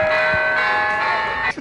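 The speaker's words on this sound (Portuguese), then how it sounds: "Aquele sino é muito chato." Large bell rung loudly with a sustained metallic tone that hums and fades, a second strike coming near the end, no speech heard.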